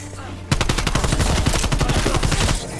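Rapid automatic gunfire in Call of Duty Cold War Zombies bursts in abruptly after a short quiet moment, a loud, fast, steady stream of shots that keeps going to the end.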